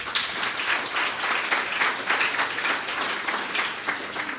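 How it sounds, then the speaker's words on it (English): An audience applauds the author at a book event, with a brisk, sustained round of clapping from a fair-sized crowd that pulses slightly in intensity and holds on to the end. "everyone please give her a big round of applause"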